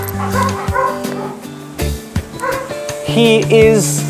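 A German Shepherd dog imported from Italy makes bow-wow barks, yips and whimpers, close and fairly loud, over a busy background with some voices.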